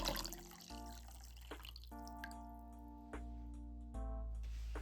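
Hot water poured over a serving plate to warm it in a Japanese kaiseki kitchen, a quiet running trickle with drips and splashes, steady and close, with no talk.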